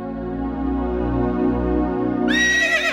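A horse whinnies loudly and close, a drawn-out shrill neigh that rises sharply near the end, over a steady low musical background.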